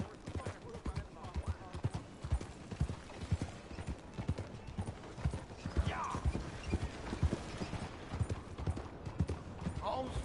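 Horse hooves clip-clop in a steady rhythmic gait in Red Dead Redemption 2, close and continuous, with game voices talking over the hoofbeats.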